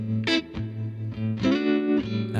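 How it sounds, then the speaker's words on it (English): An electric guitar plays a few sustained, distorted notes and chords, with a lingering reverberant tail between strums and no voices. "That's a nice warm guitar reverb."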